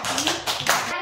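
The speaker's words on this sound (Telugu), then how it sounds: "Very good, claps." Schoolchildren in a government school classroom clap together in a short burst of several quick, bright hand claps, close and lively, with voices mixed in.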